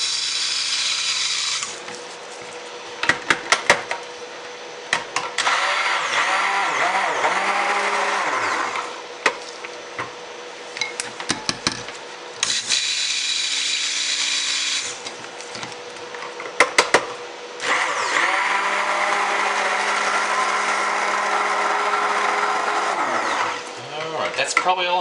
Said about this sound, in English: Glad I have two stick blenders.